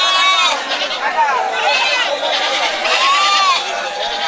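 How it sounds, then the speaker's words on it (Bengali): Native goats bleat repeatedly, several wavering cries close by, over a steady din of crowd chatter at the busy Chatmohar rail bazaar livestock market in Bangladesh. "দেখেন কি কত ছাগল দেশি ছাগল"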